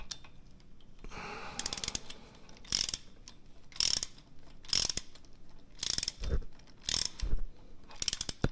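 Ratcheting clicks from a wrench tightening bolts while a home gym is assembled, in repeated short bursts about once a second, close and fairly clear with no talk.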